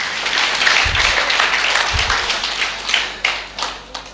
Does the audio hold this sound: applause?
yes